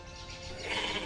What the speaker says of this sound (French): Otiara, détache les chèvres et apporte-les à la maison.